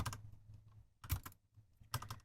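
Computer keyboard keys are pressed in quick clusters of soft, close taps during CAD drafting work, with short pauses between bursts.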